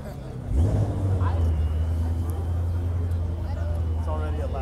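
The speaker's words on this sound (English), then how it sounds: "It's already a loud car, might as well." A loud car's engine revs up sharply at a cars and coffee meet, then holds a loud, steady growl, with people talking over it.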